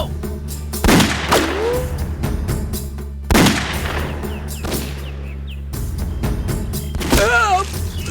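Scattered gunshots ring out in a movie shootout, a few loud cracks several seconds apart with ricochet-like whines, over a steady background score and some voices.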